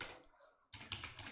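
Rapid computer keyboard typing starts abruptly after a quiet pause, a close, steady run of clicky keystrokes during a web-coding session on CSS.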